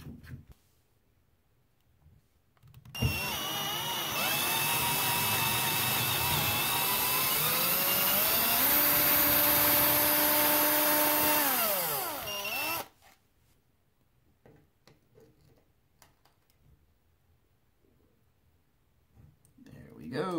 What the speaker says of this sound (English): we're going to use our drill and our drill bit to drill that out